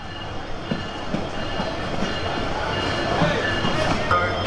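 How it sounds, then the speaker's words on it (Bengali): A train rumbles at Chittagong station with low mechanical noise and a faint squealing tone, with a murmur of voices around it. "এই যে পুরো ট্রেনটাই দেখা যায় এবং এইখানে কিন্তু প্রায় বিশ মিনিট এই ট্রেনটা হল্ট করবে"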